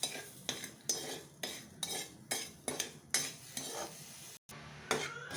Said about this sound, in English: I'm going to caramelize this sugar.